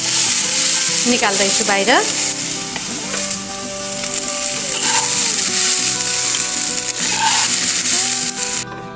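Green peas frying in a pan for matar paneer, a loud steady sizzle close up with a few scraping stirs, while a voice speaks briefly near the end.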